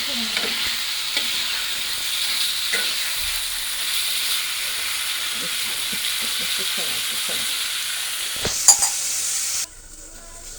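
Two eggs fry in a pan with potatoes and are stirred, a constant hissing sizzle broken by scraping strokes, a sharp clatter near the end, then a sudden drop to near quiet.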